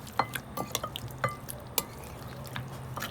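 Beef mixture for rosh is stirred in a pot, with scattered close clinks and wet scraping strokes at an uneven rhythm over a quiet background.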